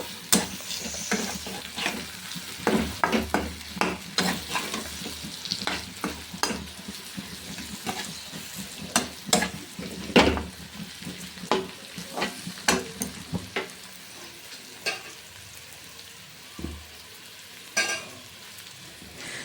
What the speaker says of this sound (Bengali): এবার ভালো করে কষতে থাকবো আদাটার গন্ধ যাওয়া পর্যন্ত একটু নাড়তে হবে